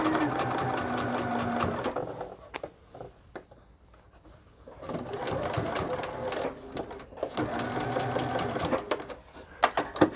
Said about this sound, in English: so I'm going to stop and push that on up so that I can sew down the rest of the tape